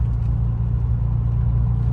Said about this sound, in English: this is my truck at 40 miles per hour, which this is where it definitely drones the most